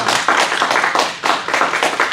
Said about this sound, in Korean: 우리 수고하시는 집사님들께 우리 박수 한번 힘차게 보내주시면